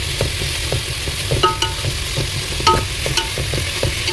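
Onions with salt fry in a pan, a steady close sizzle running throughout while a utensil scrapes and stirs in frequent irregular strokes.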